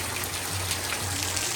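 Steady rain falling and water gushing outdoors in a village, a continuous even wash of sound at moderate level with a low hum underneath.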